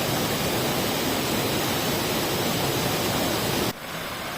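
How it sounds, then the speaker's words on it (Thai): Huai Kaeo waterfall in Doi Suthep-Pui National Park, Chiang Mai, a steady dense roar of falling water, loud and unbroken, cutting off abruptly near the end. "ลงมาสู่น้ำตกห้วยแก้วที่อยู่บริเวณด้านล่างของอุทยานแห่งชาติดอยสุเทพปุย"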